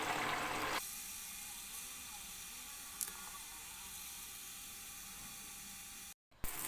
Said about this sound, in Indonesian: Kita akan menggoreng tahu terlebih dahulu.